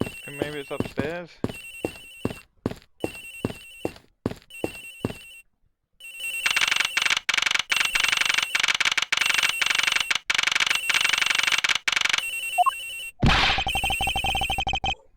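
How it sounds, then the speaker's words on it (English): A phone ringing in a courtroom mystery game, sharp repeated electronic ring tones sounding in a steady rhythm, then swelling into a loud continuous warbling ring before a final burst. "The ring is coming from somewhere in here, sir."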